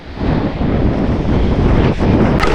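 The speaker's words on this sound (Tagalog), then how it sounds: "Medyo malakas ang hangin kasi natunaw na yung kakatunaw lang ng bagyong Basyang." Strong wind from a passing typhoon roars and buffets the microphone continuously at a coastal fishing spot in Cavite, a loud broadband rush with no voices.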